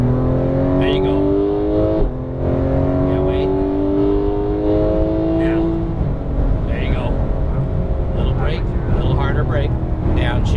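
Porsche 911 GT3 (991) engine accelerating hard on a race track, a loud rising howl that climbs through the gears with a brief dip at a shift, while an instructor talks over it.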